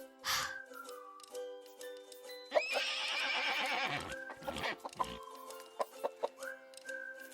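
A horse whinnies loudly in a long, quavering neigh, followed by shorter snorts and calls, close by and clear.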